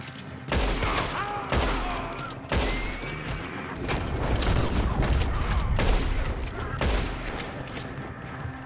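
Gunfire in Red Dead Redemption 2, with loud repeated shots and booming blasts in a sustained firefight, heavy and continuous with mechanical clatter between volleys.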